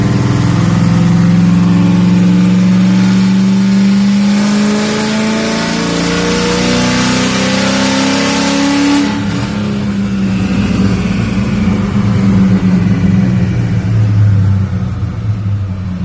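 Break-in run of a freshly built engine held at wide open throttle, a loud, steady high-revving roar with rising harmonic sweeps that climb, then settle into a rougher sustained drone; no talking.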